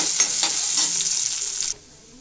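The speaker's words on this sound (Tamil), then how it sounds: "இதை மூணுத்தையும் கொஞ்சம் நல்லா வறுத்து எடுங்க பொன்னிறமாக" Green chillies, ginger and garlic frying in a pan for mint, coriander and curry leaf chutney, a loud close sizzle with stirring scrapes that cuts off abruptly near the end, leaving faint quiet.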